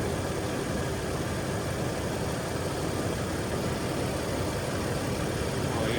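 A squatted Toyota Tacoma truck's engine runs steadily at idle, a continuous low rumble holding at even loudness throughout with no talking.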